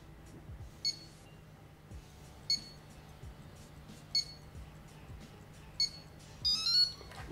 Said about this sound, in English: that kind of funny beep at the end, that means that it's ready